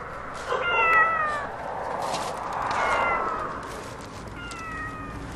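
A cat meows in a Korean TV drama, giving a few drawn-out, wavering calls, loud and close over a steady background hiss, with no talking.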